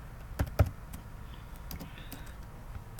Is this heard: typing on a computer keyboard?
yes